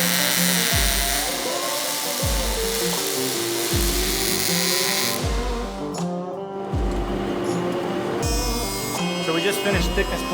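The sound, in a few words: thickness planer planing a rough wooden board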